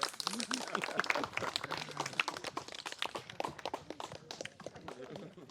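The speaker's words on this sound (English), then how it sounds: "put your hands together and give him a round of applause" An audience applauds at a primary school event with dense, rapid clapping throughout, while people talk over it.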